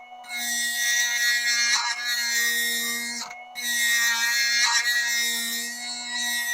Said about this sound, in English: And this is the thing with a Dremel. You can't be afraid to use it.